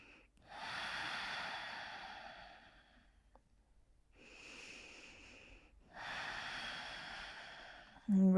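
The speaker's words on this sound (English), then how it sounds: "Take an inhale and an exhale." Slow, deep breaths during a yoga class held in downward facing dog, heard as three long airy breaths, each lasting a couple of seconds, close and fairly loud with quiet gaps between them.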